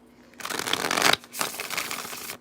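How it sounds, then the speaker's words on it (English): Tarot cards shuffle in two brisk riffling bursts, close and crisp, separated by a short pause, with no talking. "Last shuffle for Libra, Scorpio, cusp energies."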